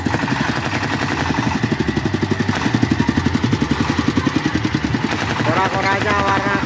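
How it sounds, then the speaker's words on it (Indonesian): A motor drives a yellow kora-kora swinging boat ride at an Indonesian night fair held for the 79th Independence Day celebration. It gives a steady, rhythmic mechanical chugging, loud and close, with fairground noise around it. "ini mesinnya lur."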